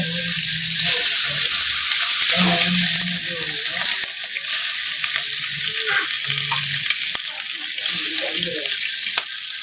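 Fish fries in oil with a loud, constant hiss broken by crackles and pops, while faint voices and kitchen clatter sit in the background.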